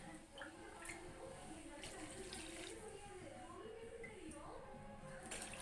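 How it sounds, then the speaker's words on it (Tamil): Water is poured into sambar in a cooking pot, a soft, faint, continuous splashing and trickle that ends in a few brief louder splashes. "சாம்பாருக்கு தேவையான அளவு தண்ணி ஊற்றிக்கலாம்."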